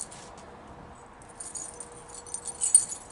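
A bunch of keys jingles softly, starting quiet and building into a few brighter metallic jangles near the end, with no voices present.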